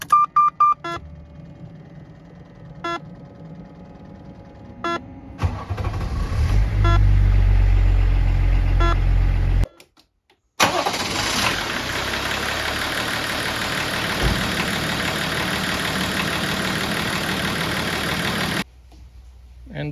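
A hot P38 diesel engine: a few soft beeps, then a long labored crank, a short silence, and a steady, loud idle that runs until it stops near the end.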